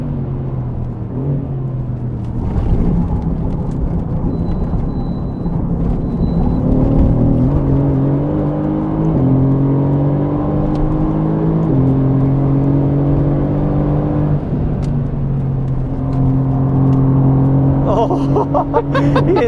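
A Mercedes-AMG GT R drones steadily from inside the car on the Nürburgring, its engine note stepping up and down in pitch through gear changes, loud and continuous.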